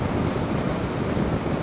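Steady, loud wind roar buffets a small GoPro Session camera while riding along a motorway, a dense rushing noise with no break throughout.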